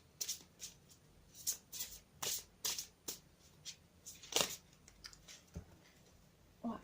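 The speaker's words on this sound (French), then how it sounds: "je vais recommencer à battre les cartes" Tarot cartomancy cards being riffled and shuffled by hand in a quiet room, a series of crisp, close flutters and snaps in irregular bursts, with no talking.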